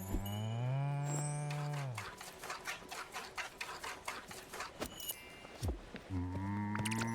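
A cartoonish cow in the video game Spiritfarer moos while being milked, with long drawn-out lowing at the start and end around a rapid mechanical clattering rattle in between.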